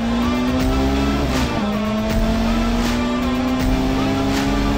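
A Honda CRX VTEC engine drones loudly and steadily, its pitch dipping briefly then climbing again as the revs rise and VTEC engages, with no one speaking.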